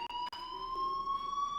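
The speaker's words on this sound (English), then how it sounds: "Hey, do you hear that fire alarm?" School fire alarm in the video game Life Is Strange, a steady electronic tone ringing continuously and alone, with two brief clicks near the start.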